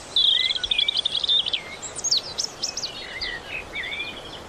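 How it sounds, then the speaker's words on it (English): Birds singing outdoors: a fast trilling warble followed by several sharp, clear chirps and whistled notes, fairly close and distinct over faint background hiss, no voices. "I watch the birds flying above me"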